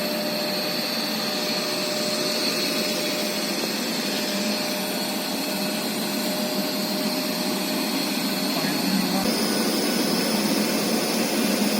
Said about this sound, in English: run the motor at a speed slightly greater than rated speed, say 1200 RPM